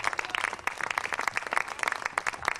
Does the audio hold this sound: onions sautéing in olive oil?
no